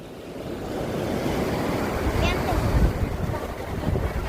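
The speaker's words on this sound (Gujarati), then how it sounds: "આવી રહી છે ઉમૈયા નદી લીલાપુર ગામ તાલુકો લખતર" The flooded Umaiya river at Lilapur village in Lakhtar taluka rushes past with a steady, dense roar, heavy wind buffeting the microphone throughout.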